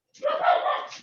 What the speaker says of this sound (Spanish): Para que siga ladrando el perrito ahí